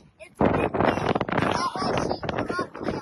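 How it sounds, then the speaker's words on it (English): Wind blows hard against the microphone in loud, rumbling gusts, with someone speaking underneath. "It's windy."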